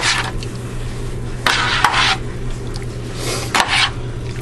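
Paprika is stirred into shrimp scampi in a baking dish: a close utensil scrapes and rubs against the dish in a few separate strokes over a low steady background hum.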